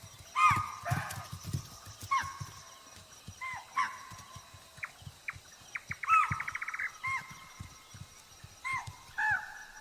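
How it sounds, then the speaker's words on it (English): Deer alarm calls at a tiger's presence: sharp, loud barking calls ring out again and again at irregular intervals, some in quick bursts, against a quiet outdoor background with faint birdsong. "the deer respond to the tiger's presence, barking warning calls loud and clear"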